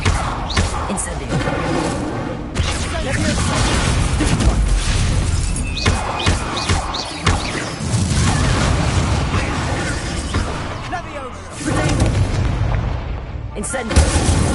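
An Incendio fire spell is cast again and again in Hogwarts Legacy, giving loud, sustained roaring whooshes and booms that run almost without a break for the whole stretch, with a game voice over them.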